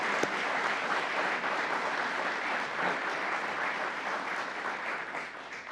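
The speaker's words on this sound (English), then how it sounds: "Let's give all the members of law enforcement a round of applause" A crowd at a governor's public announcement gives a sustained, even round of applause for members of law enforcement, a dense wash of many hands that runs steadily without talk.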